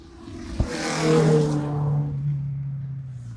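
A Peugeot rally car engine revs and roars past, rising to a loud peak then settling into a steady droning note that fades, with no talk over it.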